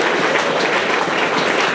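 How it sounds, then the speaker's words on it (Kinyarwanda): A crowd at a church gathering in Burundi applauds, sustained dense clapping from many people, loud and close throughout. "Ayo mashyi muyamukomere."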